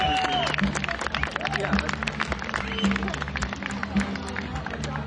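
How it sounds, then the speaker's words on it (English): At a Harley-Davidson hometown rally, a crowd applauds police motorcycle demo riders Brian and Rob, with scattered claps and some cheering over a steady low engine hum. "round of applause for Brian and Rob."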